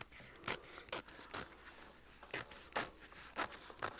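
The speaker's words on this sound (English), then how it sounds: "we're going to trim the excess water resistant canvas" Scissors snip several quick cuts through excess water-resistant canvas while a convertible backpack is sewn, each crisp cut short and close in a quiet room.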